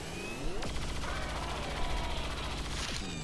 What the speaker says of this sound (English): Going to open fire on him